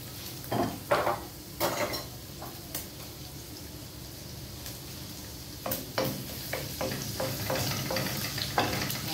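Garlic is sautéing in oil for sautéed zucchini with sardines. A continuous frying hiss runs beneath repeated scraping strokes of a utensil against the pan, with a steady clatter of stirring that comes and goes.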